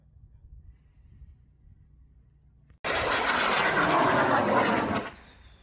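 A model rocket motor ignites abruptly and burns with a loud, broad roaring rush for about two seconds before cutting off, leaving a fading tail over faint background noise.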